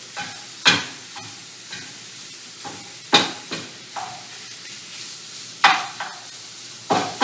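Sausage browns in a pan over fairly high heat, with a steady close sizzle broken every second or so by sharp scrapes of a utensil across the pan bottom.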